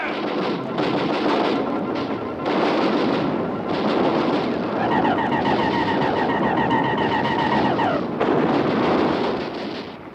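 An artillery barrage in a live radio drama, made up of continuous heavy rumbling blasts and crackling explosions, loud and dense across the whole stretch, with a warbling tone rising partway through.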